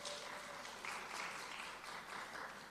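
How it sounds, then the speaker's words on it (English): An audience at a national health research conference claps for an award-winning speaker, with steady, fairly quiet applause heard from a distance in the hall. "Give her another clap."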